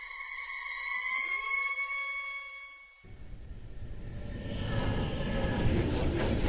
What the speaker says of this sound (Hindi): एक मेट्रो ट्रेन में सफर कर रहा था